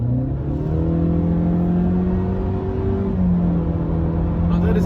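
A 2018 Honda Civic VTEC Turbo GT with a CVT accelerates at full throttle onto a 100 km/h road, its engine note a steady, close interior drone that climbs gently and holds near-constant pitch under continuous road rumble.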